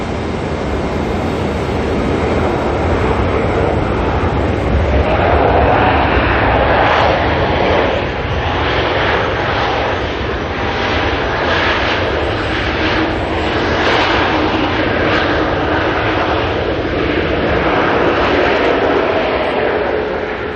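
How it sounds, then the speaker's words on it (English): An Air New Zealand Airbus A321neo arriving at Auckland Airport from Queenstown roars steadily and loudly throughout, a sustained broadband jet rumble with shifting tones as it comes in, with no voices over it. "Air New Zealand A321 Neo coming in from Queenstown."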